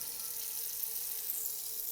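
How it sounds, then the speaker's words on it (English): Water runs steadily into a non-stick pan, a soft even hiss with no talking. "Let's fill it up with some water."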